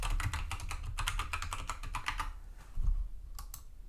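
Someone types administrator credentials on a computer keyboard, a quick run of close, crisp keystrokes that pauses briefly, then a few final taps.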